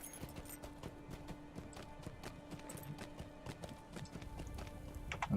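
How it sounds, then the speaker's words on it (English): Clip-clop hoofbeats of a riding goat mount in the online game Lord of the Rings Online, a steady rhythmic trot running through the whole stretch at moderate level over soft game ambience. "I'm riding a goat."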